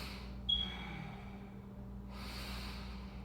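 A person in a yoga pose breathes deeply, with a sharp audible inhale near the start, a quiet pause, then a long, soft exhale over a low background hum.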